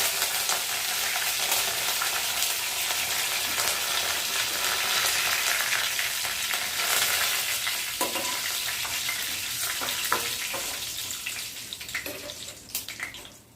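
Curry leaves crackling in hot tempering oil for an instant garlic chutney, a loud, steady, close sizzle that slowly eases toward the end with a few sharp pops and stirring scrapes, no talk.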